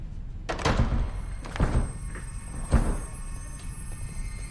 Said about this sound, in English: you've broken the door